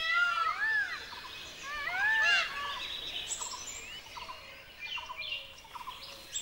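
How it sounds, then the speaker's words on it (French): Peacocks in Nepal's tiger country give a series of loud, shrill, upward-sweeping calls that come in quick bursts early on and then fade into fainter, scattered cries against a quiet outdoor background. "Le paon est un oiseau belliqueux et dangereux lorsqu'il se défend."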